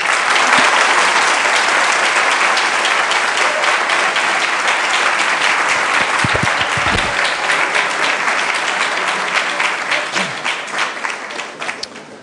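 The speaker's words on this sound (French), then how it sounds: "je vous demande d'applaudir Étienne Klein" A large conference audience at an engineering school applauds the physicist Étienne Klein, sustained dense clapping that stays loud for several seconds before slowly tapering off.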